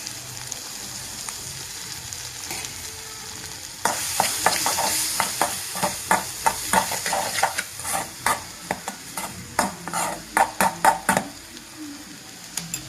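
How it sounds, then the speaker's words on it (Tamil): Gram flour batter goes into a frying egg gravy, which sizzles softly before a louder bubbling hiss, followed by a rapid series of sharp stirring scrapes and clinks in the pan. "இந்த டைமில் கொஞ்சமாக கடலை மாவை கரைச்சி நம்ம என்ன பண்ணிடலாம் இதில் ஊற்றிடலாம்"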